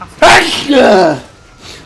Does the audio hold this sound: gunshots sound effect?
no